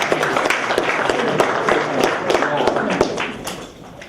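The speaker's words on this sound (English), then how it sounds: "All right, round of applause." An audience at a school talk applauds, a dense burst of clapping that carries on for a few seconds and then begins to fade near the end.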